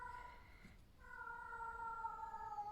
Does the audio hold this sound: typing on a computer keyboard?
no